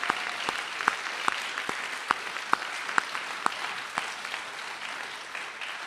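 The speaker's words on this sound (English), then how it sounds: "help me give a round of applause to all of the parents and family and friends who are here" Faint, distant applause from a graduation commencement crowd honoring parents, family and friends, with a few sharper individual claps popping out of the soft, steady clapping.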